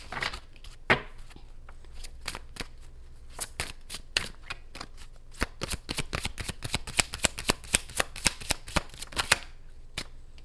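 A deck of tarot cards being shuffled by hand, close and crisp, in repeated rapid riffling bursts that grow denser and quicker toward the end, with no talk.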